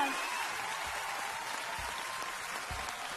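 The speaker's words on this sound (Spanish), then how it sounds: "Otro aplauso para Edith Márquez" Applause from the crowd at the Premios de la Radio 2021 awards show: a steady, moderately distant wash of clapping that holds evenly throughout, with no clear voices above it.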